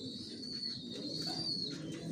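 Racing homing pigeons, Johnson maxi racer stock, coo softly and steadily in their loft over a continuous low murmur of flock sounds.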